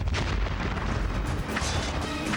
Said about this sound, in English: Looks like the explosion came from the west